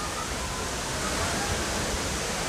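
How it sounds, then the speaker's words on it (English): A hidden waterfall in the hillside of St. Thomas, Jamaica, rushing outdoors as a steady, dense wash of falling water, continuous and fairly loud with no break. "Well, I'm showing about the waterfall."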